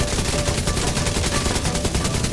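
Rapid automatic gunfire from two players in The Division 2 PvP, a dense, steady stream of shots layered together, loud and unbroken throughout.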